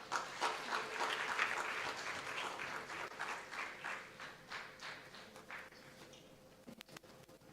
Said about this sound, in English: So, a special round of applause.